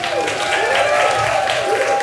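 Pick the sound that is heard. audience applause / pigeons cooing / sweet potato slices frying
audience applause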